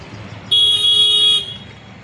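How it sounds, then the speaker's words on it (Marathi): An arriving express sounds a single loud, close horn blast lasting about a second, rising sharply out of quiet background noise and cutting off cleanly. "हे बघा आमची गाडी आली"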